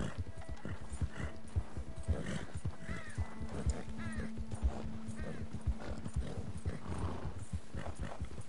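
Steady clip-clop of horse hoofbeats while riding across open ground in a cowboy video game, rhythmic and close, with occasional neighs and faint background game sounds.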